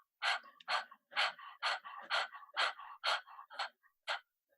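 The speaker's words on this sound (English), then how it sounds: "breathe in and out of the mouth, like panting like a dog, like this" A person pants rapidly through an open mouth with the tongue out, demonstrating a Kundalini yoga breath: about a dozen quick, breathy in-out puffs in a steady rhythm, close and clear with no talking.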